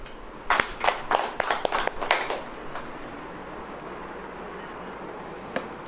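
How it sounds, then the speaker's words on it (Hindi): Worshippers at a Hindi church service clap together once more, a quick burst of several loud, closely spaced handclaps over the first couple of seconds, then falling to a near-silent room with one faint later clap. "फिर बजाएं।"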